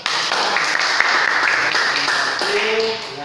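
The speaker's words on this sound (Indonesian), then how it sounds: "tepuk tangan dulu" Classroom applause in an Indonesian teacher-training language class, a few seconds of scattered clapping from a small group, with voices talking over it toward the end.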